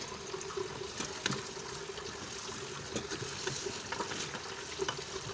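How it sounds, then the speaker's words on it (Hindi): Water trickles into frying masala for a salan made with frozen tomato-onion gravy, a faint, steady sizzle and bubbling with small pops and occasional clinks, with no voices. "और जलने ना जले इसलिए हम इसमें थोड़ा थोड़ा पानी शामिल करेंगे।"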